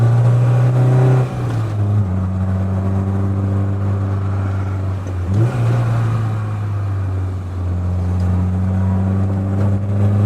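Peugeot 205 GTI with a naturally aspirated engine labouring loudly up a mountain road, a steady close engine drone with shifting pitch, a brief dip and gear change midway, no talk.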